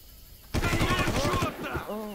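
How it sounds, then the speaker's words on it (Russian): A burst of rapid automatic gunfire in the shooter Far Cry starts abruptly and rattles loudly for about a second, followed by a brief voice-like sound. "А как понять, кто стреляет?"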